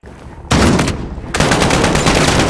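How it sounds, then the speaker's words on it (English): Rapid gunfire in the Modern Warfare Remake video game: a brief quiet lead-in, then a loud burst of automatic shots, a short pause, and sustained dense firing to the end. "Now I shoot them all"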